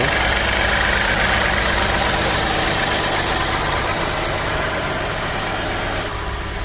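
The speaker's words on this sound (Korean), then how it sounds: "엔진룸을 열었을 때 굉장히 엔진도, 엔진 부분도 소리가 굉장히 양호하고 깔끔한 상태 유지하고 있습니다" A 2018 Hyundai Grandeur IG 3.0 gasoline sedan with about 160,000 km idles with the hood open, giving a steady, even close-up engine hum with no voices.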